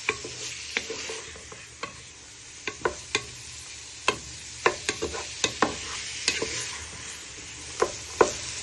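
Someone stirs a pork stew in a pot, with a spoon tapping and clinking irregularly against the metal over a steady soft sizzle, fairly close and with no talk.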